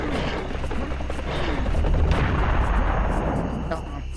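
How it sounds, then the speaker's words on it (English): A cannonball exploding in the shooter game Serious Sam: The First Encounter, a loud, sustained roaring blast with heavy low rumble that fades slightly at the end. "it's the cannonball blowing up"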